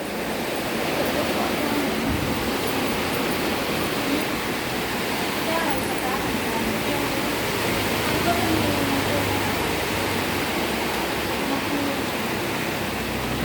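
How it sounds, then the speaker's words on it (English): Heavy rain pours down outside a laundromat in Patong, Phuket, a dense, unbroken roar of rushing water that stays loud and even throughout. "It's raining outside. Lucky we just got here and it's pouring down."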